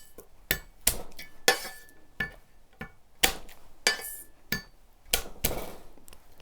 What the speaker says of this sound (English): let's crush some garlic. We're going to use the Wusthof here.